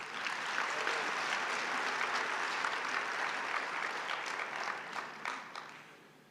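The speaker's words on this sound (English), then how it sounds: "another round of applause," Graduation ceremony audience of a business and management faculty gives a steady, full round of applause, many hands clapping evenly for about six seconds before thinning out near the end.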